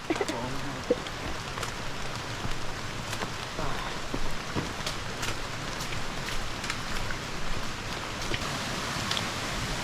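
Rushing water from the Salatdai waterfall in Nakhon Nayok reaches a rainy forest trail as a steady, fairly distant hiss that fills the whole stretch, with faint bird calls over it.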